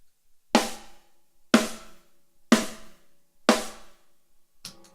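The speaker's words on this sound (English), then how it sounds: "when you hit the rim and the snare at the same time, it gives you like more of a crack sound." Four snare drum rim shots struck at steady one-second intervals, each a bright, cutting crack with a brief ring, close and loud with no talking.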